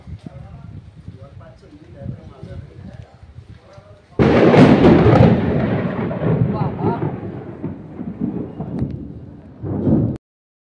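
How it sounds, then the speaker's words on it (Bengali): Heavy rain with thunder outside: a sudden loud roar breaks in midway and stays as a steady downpour with rumbling, after quieter background sounds and muffled voices. "বাইরে অঝোরে বৃষ্টি পড়ছে বন্ধুরা"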